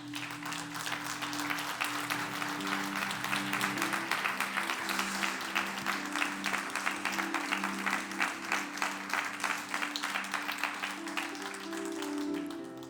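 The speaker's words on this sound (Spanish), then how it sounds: "Dele un aplauso al Señor." A church congregation claps together in a steady, rhythmic beat, loud and continuous throughout, with a low musical drone held underneath.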